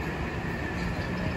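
A steady rumble of a train rolling past nearby, dense low rattling and a constant high whine, with no speech.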